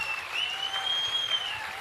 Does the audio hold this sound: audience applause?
yes